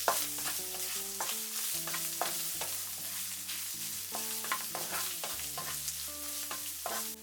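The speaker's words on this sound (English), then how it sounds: "Stir for 3 minutes." Beef tofu mapo ingredients stirred and frying in vegetable oil, soft sizzling with repeated scraping strokes of a utensil in the pan, heard under steady background music.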